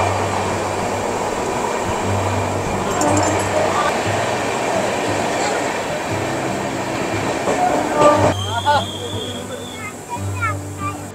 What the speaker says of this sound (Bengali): ট্রেনে বসে আছি অনেকক্ষণ